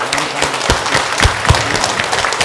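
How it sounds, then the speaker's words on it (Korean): A congregation at a church worship service claps together in steady, dense applause, with a few sharper individual claps standing out, lasting the whole moment. "우리 모든 영광을 하나님께 영광의 박수 올려드리겠습니다"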